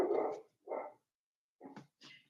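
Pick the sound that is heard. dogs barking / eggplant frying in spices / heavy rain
dogs barking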